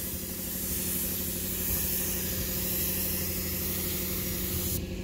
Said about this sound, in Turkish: Evet, kompresör çalıştı. Onun sesi.